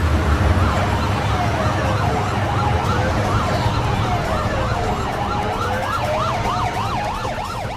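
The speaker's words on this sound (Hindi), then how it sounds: "अभिजीत एम्बुलेंस बुलाओ" A wailing ambulance siren rises and falls repeatedly and loudly throughout, over a steady rumble of traffic or engine noise.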